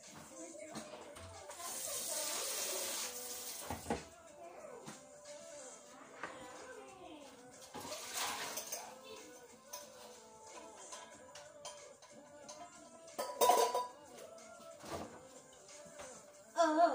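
Dishes being washed at a kitchen sink: running tap water in bursts, with scattered clinks and knocks of dishware, moderately quiet and close, alongside occasional soft talk.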